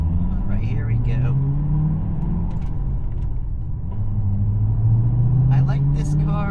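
A 2007 Shelby GT500 SVT Mustang fitted with a Corsa Extreme exhaust drives along with a deep, steady rumble that swells as it pulls away, while someone talks over it inside the car.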